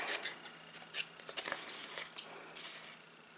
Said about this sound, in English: we're going to cut the end of this side just the teeniest bit, my scissors